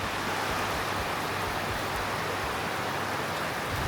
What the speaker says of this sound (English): it's raining and it's loud. We got a tin roof